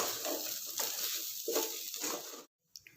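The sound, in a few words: stirring food mixture in a pan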